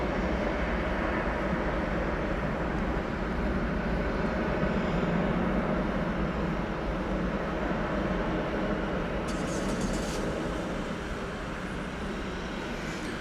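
An Airbus A321 airliner landing at DFW Airport at night, heard as a steady, fairly faint broadband jet rumble throughout with no clear rise or fall.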